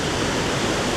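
Loddon river running high after rain, a loud, steady broadband rush of flowing water with no pauses, close by and continuous, with no voices.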